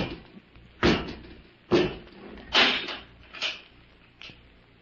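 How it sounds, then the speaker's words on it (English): A door on a vintage radio drama is pushed shut, heard as a series of five dull thuds and knocks spaced about a second apart, each fainter than the one before, with no voices over them. "Come out and close the door"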